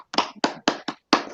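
During an online web conference, five separate hand claps sound close to the microphone, sharp and distinct with short silent gaps and a slightly longer pause before the last.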